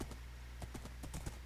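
Horse hooves clip-clop in Minecraft, a quick series of faint, evenly spaced clicks from a blocky game horse stepping out of water.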